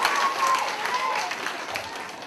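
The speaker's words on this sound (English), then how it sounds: "a big round of applause" An audience at a kindergarten school assembly claps in steady applause, a dense even wash of many hands with some crowd noise, sustained throughout.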